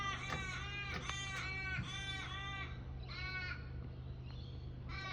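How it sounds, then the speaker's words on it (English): Harsh, crow-like bird caws repeat in a steady series of loud calls among fruit trees over a constant background hiss and low drone. "you get used to all the bird sounds, but you've got to appreciate it"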